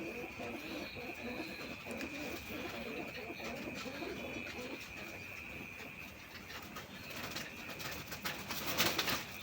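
Lotan pigeons cooing in a loft, soft repeated low coos under a steady background hum, with some clatter and rustling toward the end.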